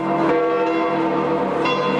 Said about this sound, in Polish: usłyszeliśmy dzwony Bazyliki Świętego Piotra